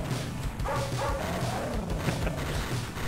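Dogs barking and yipping in the video game N.A.R.C., a steady run of repeated bow-wow barks with some whimpering, heard from a distance under constant game noise.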